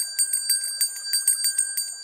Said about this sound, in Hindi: बाल्टी या स्नान टब में साफ जल भरो और एक छोटी घंटी से ध्वनि उत्पन्न करो।